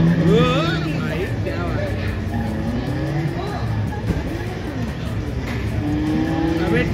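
An arcade racing game in a mall game zone roars with a steady revving engine, tire squeals and skids, loud and continuous under excited talking from nearby players.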